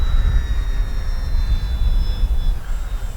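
An RC F8F Bearcat warbird model airplane engine drones past at full speed, its high whine sliding down in pitch as it flies by, with wind noise rumbling throughout.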